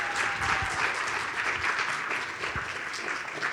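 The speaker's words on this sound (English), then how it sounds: "Can I get one more round of applause for our volunteer readers?" A live audience at a community reading and music event applauds volunteer readers with steady, sustained clapping that stays fairly even throughout, with no talk over it.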